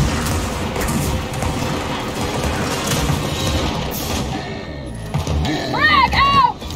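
A frag grenade blast in Gears of War 4, buried in a loud, dense wash of continuous combat noise and gunfire, with warbling electronic tones rising near the end.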